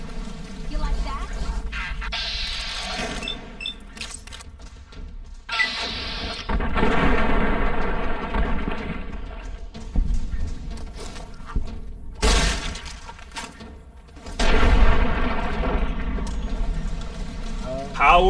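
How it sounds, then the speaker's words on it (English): A shotgun fires in the Fallout New Vegas video game, with several loud, booming blasts spaced apart among game noise. Someone talks throughout. "Power of the shotgun."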